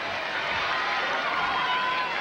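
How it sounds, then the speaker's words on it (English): A tennis crowd at the 1991 French Open, Agenor versus Connors, fills the stands with a steady, dense roar and murmur that holds at an even loudness throughout. "Listen to the crowd."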